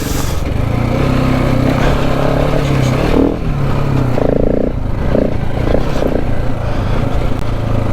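KTM adventure motorcycle being ridden, a steady loud engine drone with shifting throttle and some clatter throughout, the tone dipping briefly midway before building again.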